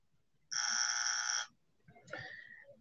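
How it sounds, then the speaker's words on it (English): A buzzer-style sound effect: one loud, flat electronic tone lasting about a second, then a shorter, fainter tonal blip, heard alone in a quiet stretch. "this deserves a buzzer."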